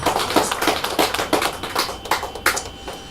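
Congregation clapping during a church service, a quick series of sharp, fairly loud claps with an uneven rhythm and no talk over them.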